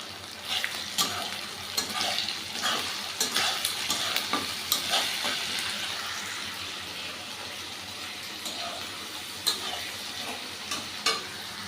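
Onion and capsicum with a little salt fry in a pan, a steady close sizzle punctuated by frequent spatula clicks and scrapes as they are stirred.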